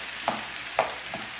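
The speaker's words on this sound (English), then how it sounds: "you need to stir the beef and potatoes so they don't burn from one side" Beef and potatoes sizzle in a frying pan under a steady hiss, while a spoon scrapes and stirs through them in three brief strokes, the middle one loudest.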